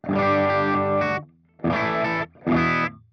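An electric guitar plays through an Audio Singularity Tangie amp set to low gain for a clean tone: a sustained chord, then two shorter struck chords, loud and close with no talking.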